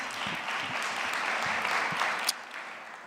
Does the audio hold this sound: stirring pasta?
no